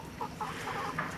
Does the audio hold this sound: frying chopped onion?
no